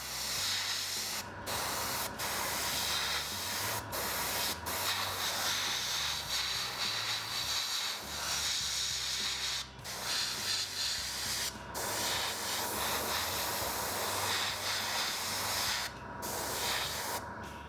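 An airbrush sprays black paint onto the masked cockpit front of a 1/48 scale MiG-29 model kit, a steady continuous hiss broken by brief pauses between passes, close and alone.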